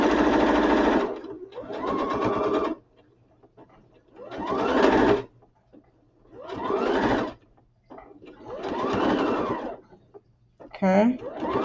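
A sewing machine stitches a Dollar Tree bag in several loud, close bursts of rapid whirring, separated by short pauses while the bag is turned.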